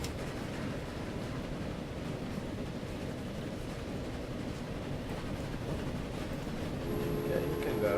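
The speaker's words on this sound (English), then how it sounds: "until the other train is coming to the" Train rumble in the Transport Fever game, a steady low rolling noise with faint clatter as the train pulls into a station, growing slightly louder near the end.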